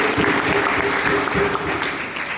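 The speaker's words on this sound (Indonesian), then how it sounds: "Berikan tepuk tangan bagi Tuhan Yesus" A church congregation at a Sunday service claps in a sustained, dense burst, loud and even with a low murmur beneath.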